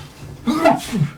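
A person sneezes during a tabletop role-play session in a home with cats, one sharp burst followed by a shorter second one, close and fairly loud.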